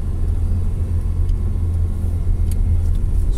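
A car engine accelerating uphill, a steady mid-pitched rumble that holds loud and even throughout, heard from inside the vehicle without talk.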